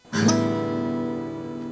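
One acoustic guitar strum rings loudly and slowly fades, its sustain carrying a subtle buzzing rattle caused by a nut problem, with no talking.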